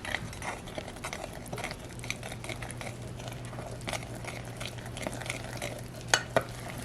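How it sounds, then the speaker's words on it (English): A spoon stirs thick einkorn masa corn muffin batter in a bowl, making soft, continuous scraping and squelching close by, with a couple of small clinks near the end and no talking. "Now I'm going to mix this all together."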